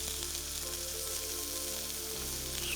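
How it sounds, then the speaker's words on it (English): Steak and asparagus dabbed with butter sizzle steadily on a hot Himalayan salt block, a continuous close hiss with no voices. "Look at that sizzle."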